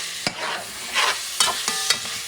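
Chopped canned Vienna sausages are stirred in a hot pan, a spoon scraping and clacking against the metal several times over a steady sizzle of frying.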